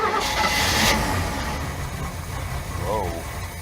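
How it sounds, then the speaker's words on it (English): An old boat outboard engine with a cracked block is primed, then cranked and caught. A burst of cranking starts it, and a quiet, steady idle follows. A person speaks briefly near the end. "That's a quiet engine."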